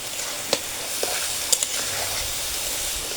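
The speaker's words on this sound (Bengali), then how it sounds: "মিনিটের মতো এই যে খুদের চালগুলো ভেজে নেব।" Broken rice grits fry with turmeric in a pan, a soft continuous sizzle with occasional small pops and a light stir, close and steady.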